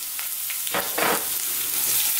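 Garlic tossed into a hot, high-heat stir-fry pan for a beef and broccoli dish, giving a steady close sizzle with a few louder bursts of frying as the pieces hit the oil and get moved around.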